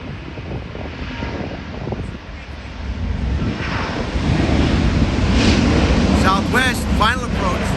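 A Lufthansa airliner rolls for takeoff at an airport, a broad distant engine roar building steadily under wind noise, with people talking over it.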